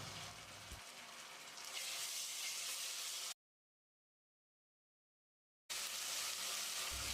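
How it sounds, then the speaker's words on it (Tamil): Steady hiss and crackle of ginger garlic paste frying in hot oil, close up, broken by a stretch of total silence before the sizzling resumes. "இதில் ரெண்டு டேபிள் ஸ்பூன் இஞ்சி பூண்டு விழுந்து சேர்த்து பச்சை வாசனை போகிற அளவுக்கு ஃப்ரை பண்ணிக்கலாம்"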